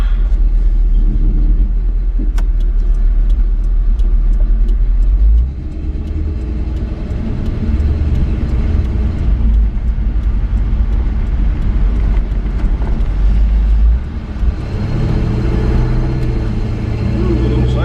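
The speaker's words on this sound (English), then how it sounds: "Jump on the highway here and get a short blast of a little bit higher RPM." Engine of a 1984 Chevy truck on the highway, a loud, steady rumble with road noise, swelling to higher RPM in two stretches with a brief dip between.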